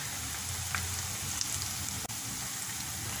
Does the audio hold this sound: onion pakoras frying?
yes